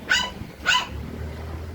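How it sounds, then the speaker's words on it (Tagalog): A dog gives two sharp, close barks about half a second apart, followed by low background hum. "Maingay yung aso."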